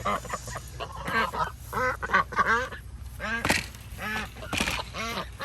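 Pet ducks quack loudly and repeatedly at close range in a backyard garden where a goose is also kept, the calls coming in rapid overlapping bursts.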